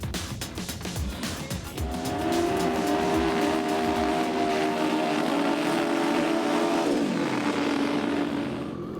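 Super Street Bike drag racing motorcycles launching side by side at a drag strip, loud high-revving engines that rise to a sustained roar and then drop away as they pull off down the track.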